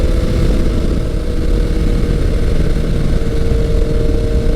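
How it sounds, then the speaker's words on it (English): A classic Kawasaki superbike engine runs steadily, a loud, continuous mid-low drone with an even idle-like rumble throughout and no talking. "The bike is running great."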